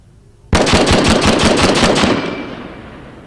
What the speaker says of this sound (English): So we'll have the Marine demonstrate firing the M1.